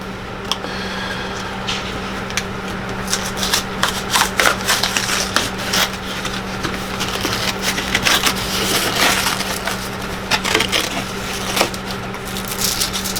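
Aluminum foil from a dollar store being handled up close, with steady crinkling and crackling plus sharp crunchy snaps over a constant low hum.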